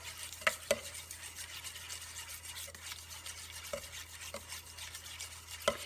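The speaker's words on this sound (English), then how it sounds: "I'm just going to mix that together" Mayonnaise and red vinegar coleslaw dressing stirred in a bowl, a soft steady scraping with a few sharper clinks against the bowl, close and fairly quiet, with no talking.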